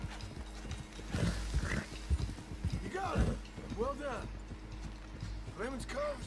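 Horse hooves clip-clop in Red Dead Redemption 2, an uneven run of clear thudding steps on a stallion over several seconds, with a horse whinnying and someone speaking over the footfalls.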